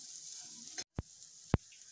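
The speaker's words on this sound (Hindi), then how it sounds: "अब इन मसालों को हम 30 सेकेंड तक भुजने देंगे।" Red chilli powder, green chillies and salt sizzling as they roast in a hot pan for a stuffed black gram paratha filling, a steady hiss broken by a brief gap and a couple of sharp clinks.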